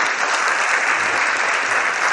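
Loud, dense applause for panelists at a retail business conference, a continuous, even wall of clapping from a large audience lasting a couple of seconds without speech.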